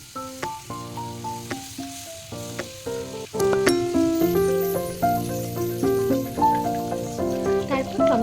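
Chopped tomato hits a wok tempered with black cumin (nigella) and sizzles steadily, the frying hiss running under bright background music.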